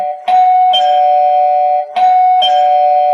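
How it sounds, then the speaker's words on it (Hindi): A doorbell chimes twice during a school Christmas play, each a clear two-note ding-dong, loud and close with a short pause between the rings. "उसके बाद और एक डोरबेल सुनाई देता है।"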